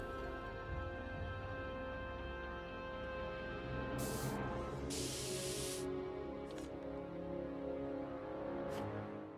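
Spray paint hisses from a can in the Back to the Future video game on PS4, in several short bursts of varying length over a steady musical game background. No one speaks.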